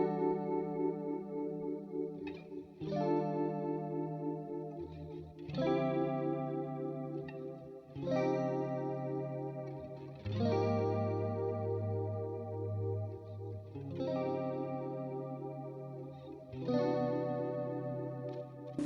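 Electric guitar through a Helix 70s chorus block modeled on the Boss CE-1, set to vibrato mode, strumming several sustained chords that ring out with a wavering pitch warble, played alone at moderate volume.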